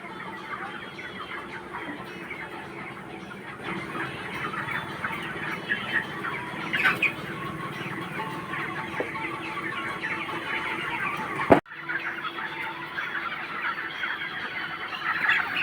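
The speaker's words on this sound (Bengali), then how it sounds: "ওকে দেখে মুরগিগুলো সব ভয়ে সরে যাচ্ছে কিন্তু ওর ভয় লাগছে না" A flock of chickens cluck continuously at an evening outdoor spot as they scatter, with busy background noise and a single loud knock near the end, and no talking.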